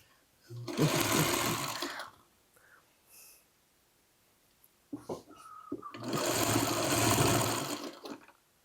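A sewing machine stitches a quilt block seam in two close, loud bursts of rapid mechanical whirring, each about one to two seconds long, separated by a quiet pause with soft handling noises.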